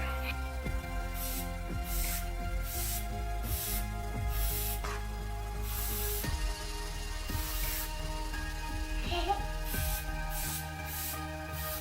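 Repeated short bursts of aerosol oil spray onto an air filter hiss close by, about a dozen quick spurts in an irregular rhythm over a low background hum.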